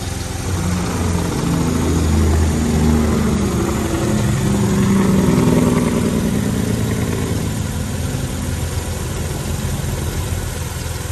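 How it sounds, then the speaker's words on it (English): A 2003 Mercedes-Benz ML320 automatic with a six-cylinder engine idles steadily and close by, a continuous low rumble with no talking over it. "Pretty good sounding engine."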